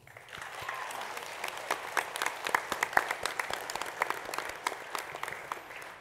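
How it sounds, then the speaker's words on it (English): Audience applause for graduates at a Massey graduation ceremony, dense and steady clapping from a large crowd throughout, with sharper individual claps popping out near the middle. "Please join me in giving them a round of applause."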